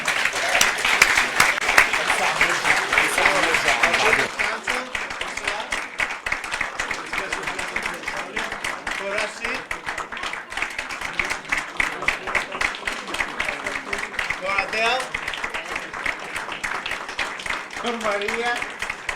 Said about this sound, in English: Before we go, let's make a big applause for our film experts, for Urvashi.